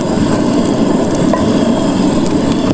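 Garlic hits a very hot pan on a boat for searing, giving a loud, close, dense sizzle with crackling spatter.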